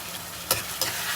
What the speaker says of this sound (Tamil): இப்போ கொஞ்சம் நல்லா இந்த தக்காளியை ஸ்மैश பண்ணி வதக்கிக்கணும்